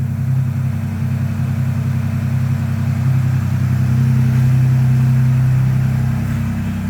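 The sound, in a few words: Ford Bronco Raptor engine, pulling up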